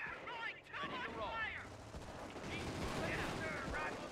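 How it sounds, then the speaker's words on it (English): Grenade blast and gunfire from a BK Mod beta 1v1 video game match, a dense roar of shots and explosions throughout, with someone talking over it. "the grenade sometimes pushes them out of cover"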